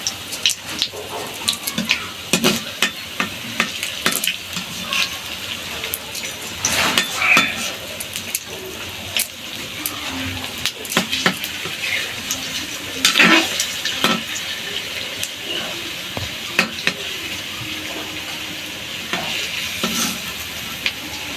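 Ripe banana fritters frying in hot oil, a steady close bubbling sizzle running throughout, broken by frequent clinks and scrapes of a utensil against the pan.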